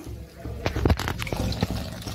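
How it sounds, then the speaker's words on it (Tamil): Tamarind water poured into simmering sambar, a short splashing gush of liquid with a few gurgles and drips, close and moderately loud, with no speech. "இப்போ வந்து புளி போடுறேன்."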